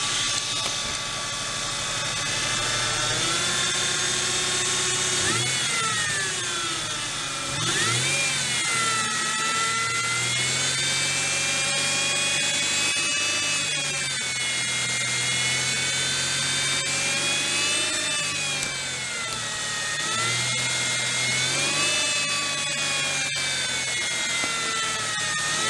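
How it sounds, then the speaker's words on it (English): A 2000 Ford Mustang V6 3.8L engine revs high and holds at a loud whine, with its pitch rising and falling several times over a steady roar, during a radiator flush. "So I'm just going to rev the engine up."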